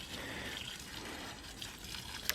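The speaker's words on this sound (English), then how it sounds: "So I've got to constantly come out here and just sort of top up its water supply" Water running steadily from a tap or hose while topping up the water supply for garden plants, a constant close gushing hiss throughout with no talking.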